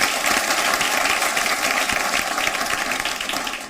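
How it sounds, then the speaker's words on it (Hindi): Loud, dense audience applause for the poet Parth Naveen at a poetry contest held during the Maha Kumbh in Prayagraj, a steady roar of many hands clapping throughout that tapers slightly near the end. "एक बार जोरदार तालियां पार्थ नवीन के लिए।"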